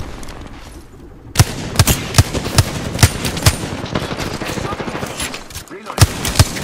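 Video game gunfire in Apex Legends: rapid bursts of automatic weapon shots punctuated by a few heavier individual cracks, loud and dense throughout with a brief lull near the end.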